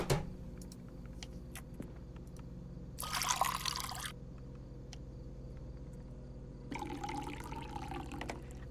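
Water pours into an empty cup in the Fears to Fathom game, two separate bursts of steady filling about a second each, set against a low ambient hum with faint clicks.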